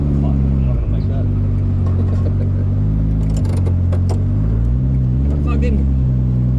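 A Nissan Skyline engine roars loud and continuous during a tyre burnout, with a steady heavy drone, small dips in pitch and faint squeals on top.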